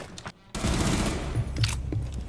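A sudden burst of gunfire in Rainbow Six Siege comes after a brief quiet pause. A sustained, loud rattle of shots follows, with a few sharper thuds inside it and no voices.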